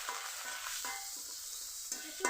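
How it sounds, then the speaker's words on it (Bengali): Grated onion, ginger and garlic with spices sauté in a pan for a Bengali cauliflower dhoka curry, a steady close sizzle broken by several soft scrapes of a spoon stirring. "এখন আমি ধোকা কারি বানানোর জন্য মশলা কষিয়ে নিব। দিয়ে দিব গ্রেট করা পেঁয়াজ, গ্রেট করা আদা, গ্রেট করা রসুন"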